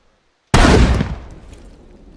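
A single loud, close M82A1 Barrett rifle shot in the game SCUM, a sharp blast after silence with a long rolling tail that fades over about a second and a half.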